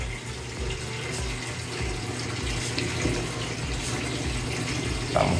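Heated water poured over a person bathing in a rural Cuban village, a steady splashing stream that runs continuously and close by throughout, with no talk.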